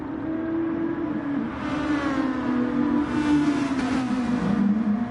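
SuperGT race cars in Gran Turismo Sport at Lago Maggiore GP howl close by, engines revving and rising in pitch through gear changes as several cars run together in a continuous, loud drone.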